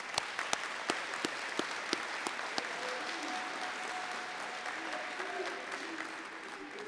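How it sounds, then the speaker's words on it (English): A round of applause for athletic trainers at a National Signing Day event: steady crowd clapping with a few sharp, distinct nearby claps at the start, continuing at a moderate level. "let's give a round of applause for our athletic trainers"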